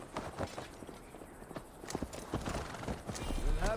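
Horse hooves clip-clop steadily in Assassin's Creed Valhalla as a mount sets off on a long ride to Tamworth. A brief neigh and game ambience are mixed in, and the hoofbeats grow louder toward the end.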